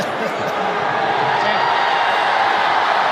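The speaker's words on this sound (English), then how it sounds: "Now, the crowd are cheering." Football stadium crowd at an Australian rules match between Port Adelaide and Brisbane, a dense, steady roar of cheering that fills the space evenly, loud and sustained with possible voices blended in.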